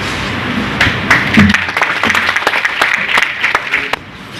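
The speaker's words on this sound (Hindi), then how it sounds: "तालियां बजाते रहे सभी लोग।" Audience at a blood donation camp held on a death anniversary claps together in a sustained burst of applause, dense and fairly loud, tapering off toward the end.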